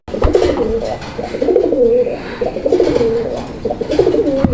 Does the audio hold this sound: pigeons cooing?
yes